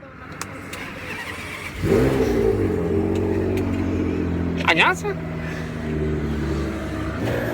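A Nissan GT-R engine with aftermarket exhaust cranks and catches at close range, then settles into a loud, rumbling idle with a brief rev, while a person speaks briefly.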